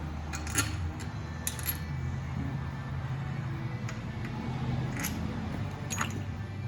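Small metal bolts for a Kawasaki Z125 engine cover are handled in a workshop, giving faint, sparse metallic clinks and jingles over a low steady background hum.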